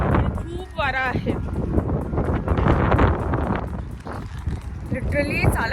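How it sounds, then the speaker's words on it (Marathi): Strong gusting wind outdoors in London on a cold autumn day, roaring steadily and buffeting the microphone, with a person talking over it throughout. "आता एवढ्या वाऱ्यामुळे पूर्ण पानं खाली गेली आहेत आणि खूप वारा आहे."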